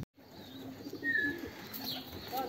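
Racing pigeons arriving at the home loft during a race flight, with soft coos and faint chirps over steady outdoor background noise and occasional brief flutters, close to moderately near, no talking.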